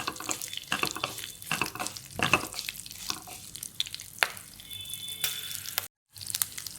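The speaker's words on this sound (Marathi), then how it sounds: "थोडेसे तीळ, चांगलं परतून घ्यायचं." Sesame seeds sauté in a pan with a crackling sizzle, broken by sharp spatula scrapes and clinks that come at irregular intervals, with a short gap near the end.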